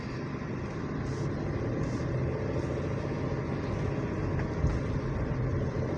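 A manual car's engine held under gentle throttle during a driving lesson, a steady, fairly loud hum from inside the cabin, with no talk.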